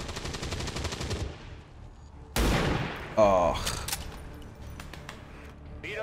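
Gunfire in XCOM 2: a rapid burst of automatic fire, then a loud sharp shot and a crackling impact with ringing metallic debris, followed by scattered softer game effects, close and loud.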